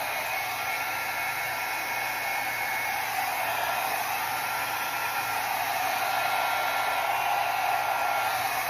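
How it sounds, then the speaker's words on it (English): Steady, loud rushing airflow, like a hair dryer, blows over an acrylic Dutch pour painting. It holds as one continuous, even hiss with no speech. "Maybe I can blow this area a little bit."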